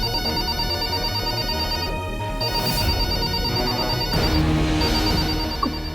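A phone ringtone plays steadily for several seconds over a busy musical background, with a brief change partway through.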